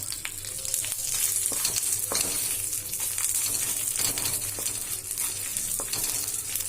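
Dried red chillies and fenugreek seeds roast in a pan with curry leaves, giving a steady dense sizzle with scattered crackles and faint scraping throughout, fairly close and with no talk.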